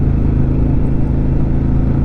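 Harley-Davidson Pan America Special adventure motorcycle engine running steadily at cruise, a continuous low rumble with no clear drop as the throttle rolls off, loud and close with no talk.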